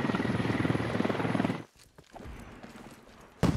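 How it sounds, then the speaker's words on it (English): A helicopter crashes in the military shooter Squad: a loud, dense rotor-and-engine roar cuts off abruptly, leaving quieter rumbling debris and a sharp final impact. "The helicopter just crashed?"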